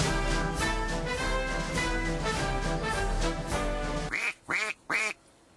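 A duck sound effect quacks loudly, first as a long dense burst of overlapping quacks, then three separate quacks spaced evenly at the end.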